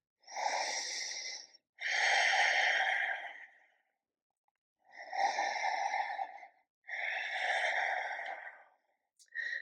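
Slow, deep breaths taken while holding a yoga plank in a morning routine, heard close up. There are four long breathy exhales with quiet pauses between them.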